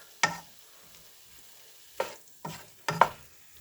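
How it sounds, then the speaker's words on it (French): Butter melts in a pan before bulgur is added for a Turkish-style pilaf. A few short, close scraping stirs break up near-silence, with a faint sizzle underneath. "Hop, on laisse bien fondre notre beurre."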